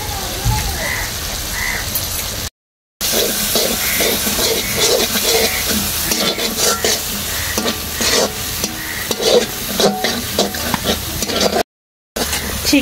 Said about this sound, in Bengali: চিংড়ি আর মশলা ভালো করে কষিয়ে নিয়েছি।